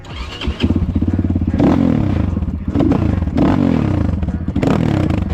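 A 2021 Geon GNS 300 motorcycle engine revs hard up close, its loud exhaust rising and falling in repeated throttle bursts with a rough, pulsing rumble.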